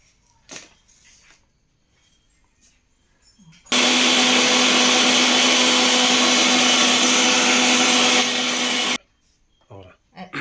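An electric mixer grinder whirs loudly for about five seconds as it grinds mustard seeds for pachadi, starting and stopping abruptly, with quiet handling noises before and after.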